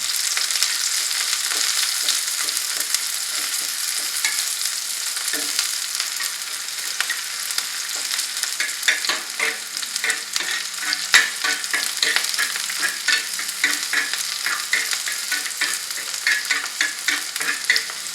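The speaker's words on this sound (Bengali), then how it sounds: "এরপর আমরা কিছুক্ষণ এটাকে লাল করে নিচ্ছি পেঁয়াজটাকে।" Onions frying in a pan to brown them for a bitter gourd and egg fry: a steady, close sizzle with stirring scrapes running throughout, no voices.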